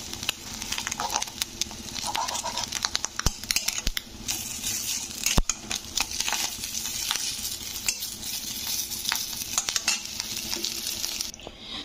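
Katla fish roe pieces fry in a kadai, giving a steady low sizzle and crackle with occasional sharp clicks of a utensil against the pan, fairly quiet and continuous.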